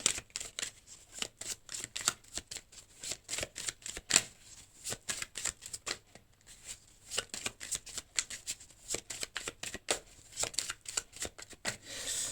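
Tarot cards are handled and drawn, giving a long run of rapid, crisp riffling and flicking bursts in an irregular rhythm, close and fairly soft, with no voices.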